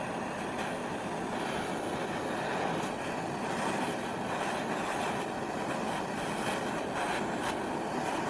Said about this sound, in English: I'm using a blowtorch to heat the tang of the blade.